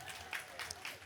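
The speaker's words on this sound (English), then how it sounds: "A big round of applause, come on." Audience applause at a 2025 tribute ceremony celebrating creativity: a brief, dense patter of many hands clapping, moderately loud and steady across the room.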